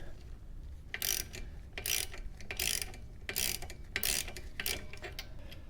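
A ratchet with an extended 13mm socket turns a bolt on a Gen6 Camaro SS 1LE brake, sounding as about seven bright, close ratcheting bursts in a steady back-and-forth rhythm, with no talking.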